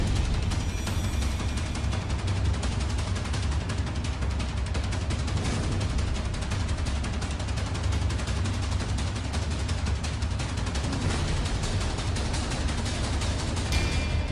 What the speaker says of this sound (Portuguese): É, barulho de tiro, interior da comunidade aqui.